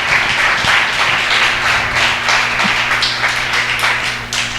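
A church congregation breaks into loud, sustained applause during a service, a close, dense wash of clapping with a steady low hum underneath that continues throughout.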